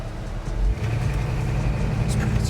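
A 1984 Chevy K-10 truck engine rumbles low and steady as it pulls away in gear, nearby with a modest rise in throttle.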